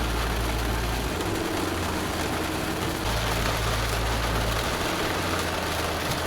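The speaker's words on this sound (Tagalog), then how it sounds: "Ang lakas ng ulan." Heavy rain during solo camping in strong winds at Rosario, La Union, a dense steady hiss pouring down continuously over a low, droning engine-like rumble.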